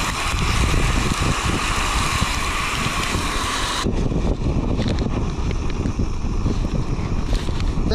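Strong wind buffets outdoors during a fish catch-and-cook, a loud broadband rush that is heavier for the first few seconds and then eases to a lower roar that continues throughout, with no voices.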